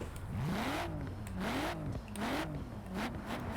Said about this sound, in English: Alright, we're gonna rev this thing.